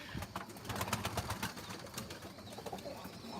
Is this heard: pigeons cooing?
yes